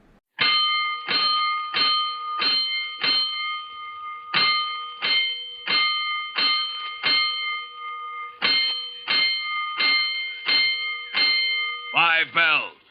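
Fire alarm bells in a 1949 firefighter radio drama: five sharp clanging bell strikes in repeated groups, evenly paced with pauses between sets, ending in a brief rapid ringing flourish.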